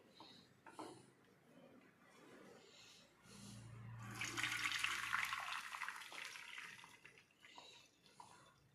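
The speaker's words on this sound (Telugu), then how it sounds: "ఈ రైస్ని మనము వడకట్టుకోవాలి." Boiled rice for egg fried rice being drained of its starchy cooking water, a splashing pour of water that builds for a few seconds near the microphone with no talking over it.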